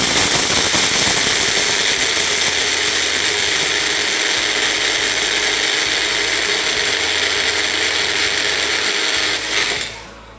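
An electric grinder grinds glutinous rice grains with a loud, harsh, continuous whirring rattle that runs steadily and then cuts off abruptly at the end.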